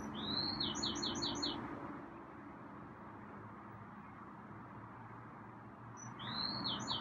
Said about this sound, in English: Oh, that's a loud bird